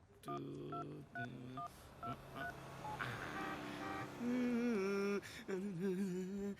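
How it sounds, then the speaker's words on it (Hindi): Telephone keypad dialing tones as a number is punched in, a quick run of short beeping tones followed by longer ringing tones, close and clear with no talk over them. "अभी फोन लगाता हूँ उसको, देख।"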